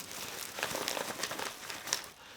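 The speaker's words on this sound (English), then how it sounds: "A whistle in a Ziploc bag." Plastic Ziploc bag holding a whistle crinkles and rustles in a steady run of close, fairly quiet handling, with a few sharper crackles along the way.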